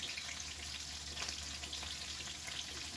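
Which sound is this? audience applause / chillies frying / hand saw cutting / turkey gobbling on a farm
chillies frying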